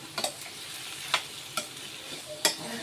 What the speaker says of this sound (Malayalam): എല്ലാം കൂടി നമുക്കൊന്ന് ഇളക്കി ഒന്ന് മിക്സാക്കി കൊടുക്കാം.